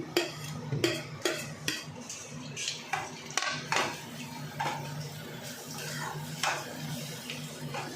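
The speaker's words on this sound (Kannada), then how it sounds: "ಈಗ ಈರುಳ್ಳಿ ಫ್ರೈ ಆಗಿದೆ ತುರಿವಿಟ್ಕೊಂಡಿರೋಂಥ ಮಾವಿನಕಾಯಿ ಸೇರಿಸ್ತಾ ಇದ್ದೀನಿ" Grated raw mango being stirred into fried onions in a pan: repeated rhythmic scrapes and clinks of a spoon against metal, roughly one or two per second, over a faint background sizzle, with no voices.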